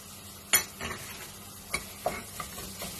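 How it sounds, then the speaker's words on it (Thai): Pounded Thai curry paste is stir-fried in a pot, with a faint sizzle and a few sharp scrapes and clinks of a utensil against the pot at irregular moments. "อันนี้จะผัดนิดหน่อยหอมๆเนาะให้กลิ่นเขาหอมๆหน่อย"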